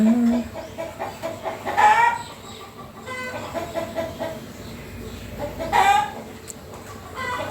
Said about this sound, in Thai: ฟังเสียงไก่ไปด้วยนะคะ ทุกคน